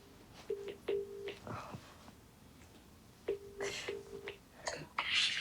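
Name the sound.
telephone being dialed for a phone call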